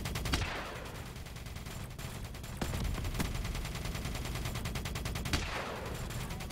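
Dense, continuous gunfire in Black Ops 3 multiplayer: rapid automatic bursts rattle throughout, with a few sharper louder shots standing out, close and loud with no talking.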